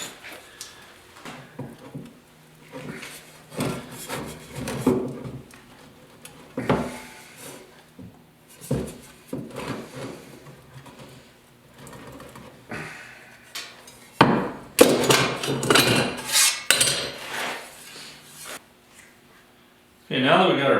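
Repeated sharp metal hammer strikes on a steel patch against an anvil, irregular bursts of close, ringing blows with pauses between, while a person talks intermittently over the work on a 1956 Mercury transmission cover rust repair.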